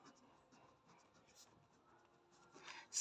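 Writing on a board during a Hindi maths lesson, heard as faint scratchy strokes in a quiet room that build to a louder scrape at the end.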